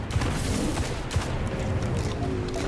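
Rapid gunfire from a scout rifle in the video game Destiny, a steady stream of loud, dense shots with occasional heavier booms, continuous and close.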